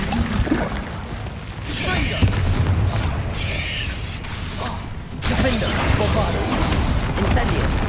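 Bombarda exploding spell cast in Hogwarts Legacy, a dense rumbling burst of magical blast and debris noise, loud and continuous with a sharp dip before a renewed surge, mixed with game effects and voice-like sounds.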